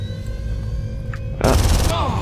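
Shotgun blast in the Far Cry video game, a single loud burst ringing out suddenly after a quiet stretch, with a short decaying tail.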